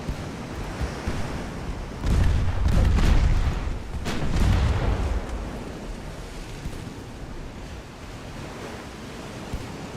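An 1890 Austro-Hungarian warship launches torpedoes in the naval game Ultimate Admiral: Dreadnoughts, a low rushing whoosh and splash rising out of steady sea and wind noise, then fading back into the surf.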